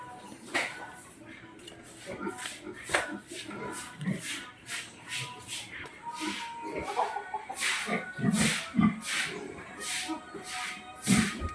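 Chickens clucking in short bursts, with some shuffling and scratching noises between calls, fairly close.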